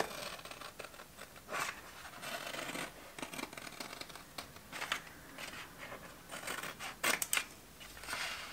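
Blade cutting wallpaper around a wall socket, a run of close scratchy slicing and rubbing strokes in uneven bursts, with no talk.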